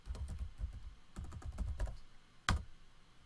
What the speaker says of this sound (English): And we're going to type in inventory.